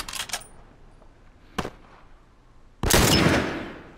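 Gunfire in The Last of Us, with a few quick shots near the start, a single sharp crack mid-clip, then a loud sustained burst of automatic fire that slowly fades.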